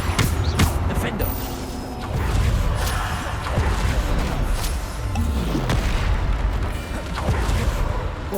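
Bombarda spell blasts in Hogwarts Legacy, heard as heavy booms and crashing impacts recurring every couple of seconds over a busy mechanical combat din, with voices in the mix.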